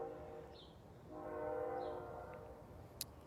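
A passing train heard from some distance, with a steady low rumble of rolling wagons and a sustained horn blast in the middle, over quiet background and no speech.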